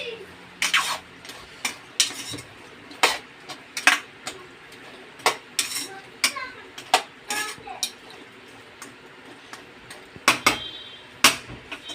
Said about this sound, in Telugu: దాంట్లో మంచిగా కలుపుకోవాలి వీడియోలో చూపిస్తున్నట్టు కలుపుకోండి